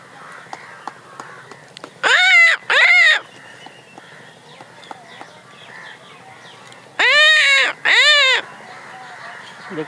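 A man imitates crows, calling them in with two pairs of loud, close, harsh caws separated by a long pause, over a faint background murmur of birds and people.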